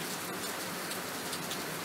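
Steady rain pours in a dense, even hiss throughout a storm meditation, close and moderately loud with no talk or other sounds.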